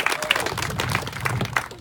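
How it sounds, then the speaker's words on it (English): A crowd at a ribbon cutting ceremony applauds, a dense patter of many hands clapping with some scattered cheers, sustained and moderately loud. "So I want to give them a round of applause first."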